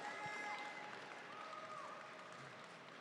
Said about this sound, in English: let's give another big round of applause for Brooke Wolfe of Elixir Coffee in Nashville,